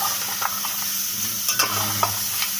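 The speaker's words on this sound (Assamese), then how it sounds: "আৰু অকণ আমি ইয়াতে ভাজি ল'ম। সেইটো তেলতেই মানে ভাজি ল'লে" Local pork frying in its own rendered fat while being stirred, a steady close sizzle broken by a few sharp scrapes and spatters of the utensil through the pan.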